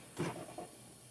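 A small drawer built into a luxury James Oro designer sunglasses box slides out with a soft, brief scrape and a light bump. It is close and quiet, with nothing else heard.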